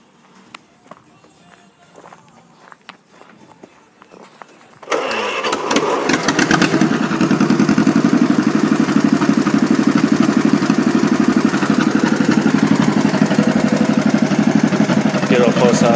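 A 1941 John Deere LA tractor engine catches after some quiet shuffling and runs loud and steady, with a rapid, even putter close by for the remaining ten seconds.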